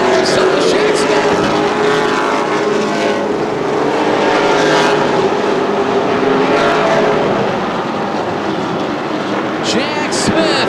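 Stock cars race at Anderson Speedway in a CRA All Stars Tour event, a continuous loud roar of engines passing with rising and falling pitch, under a commentator talking steadily.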